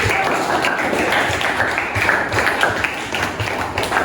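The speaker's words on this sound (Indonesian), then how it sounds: "Kita beri tepuk tangan." A classroom of students applauds the best group, a steady, dense patter of clapping hands close by that fills the whole moment without pause.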